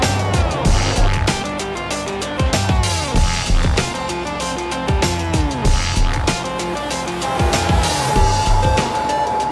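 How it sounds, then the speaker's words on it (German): Tipper truck engine in a driving simulator, a steady loud motor drone with shifting tonal pitches and repeated whooshing swells and knocks throughout, with no talking. "Sie fahren dann den Kipper und dann können wir mal durch die Gegend fahren."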